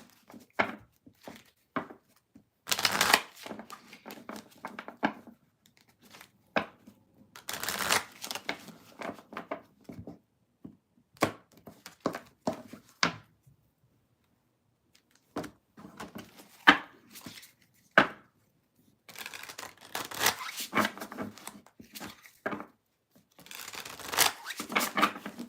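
Tarot cards shuffled in repeated bursts of riffling and soft slapping, close by, with short quiet gaps between rounds and a longer pause midway.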